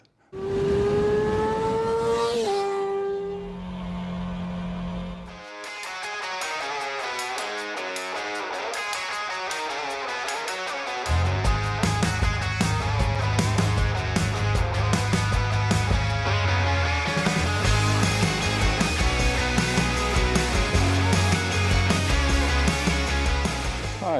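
A new 2026 BMW R1300RS SE motorcycle leaves a dealership compound in Glasgow. Its engine hums loudly and continuously, climbing and settling through revs with strong tonal harmonics.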